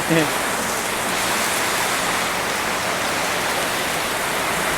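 Heavy storm rain blows into a house and soaks the bedding, a dense, loud, unbroken roar of rainfall close by that fills the whole stretch without pause.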